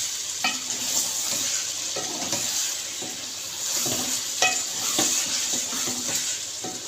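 Eggplant masala being stirred in a hot pan, a spoon scraping and knocking against the pan in repeated irregular strokes over a steady sizzle, close and fairly loud, with no voices.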